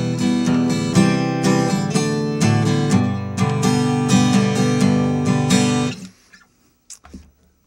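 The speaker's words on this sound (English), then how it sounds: "and then back to the full strum. So it sounds like this." An acoustic guitar is strummed steadily in a lively down-and-up pattern through several chord changes for about six seconds, then stops abruptly, leaving a few faint handling sounds.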